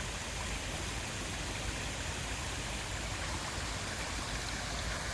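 Water feature in a garden in northern Nevada flowing constantly, a broad even rush of splashing water with no pauses, fairly close and steady throughout.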